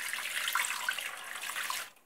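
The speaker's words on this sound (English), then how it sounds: "I'm going to add lukewarm water, not cold water." Lukewarm water poured into a bowl holding yeast for puff puff dough, a steady close splashing stream running for about two seconds before cutting off.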